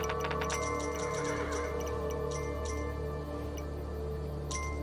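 A horse whinnies in the game Kingdom: New Lands, a short neigh over a steady ambient music bed with light ticking game sounds.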